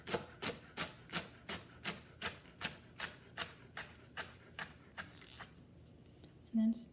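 A knife chops through rolled-up vegetable leaves on a board, a steady run of about a dozen crisp close cuts that slows and fades toward the end.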